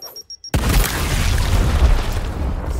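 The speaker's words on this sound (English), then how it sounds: "Frag going out." A frag grenade goes off in a video game after a few short clicks, and a loud boom follows. Heavy rumbling debris sustains it for over two seconds.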